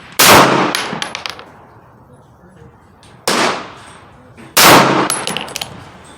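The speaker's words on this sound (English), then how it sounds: "I'm going to try 5 more shots with squinting my eye" Three sharp pistol shots from a CZ P-01 Omega fired at a target, loud and close, spaced unevenly about a second and a half apart, each with a ringing tail.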